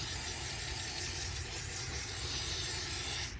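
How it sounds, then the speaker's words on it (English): Close, continuous hiss of WD-40 lubricant sprayed from an aerosol can over a fuel pump on a Silverado, steady and loud for the whole short stretch. "I should lube this up everywhere. WD-40 all over it."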